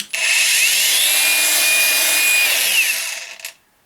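An Einhell AXXIO angle grinder runs up to speed and holds a loud, steady high whine for about three seconds, then winds down and stops, with no talk.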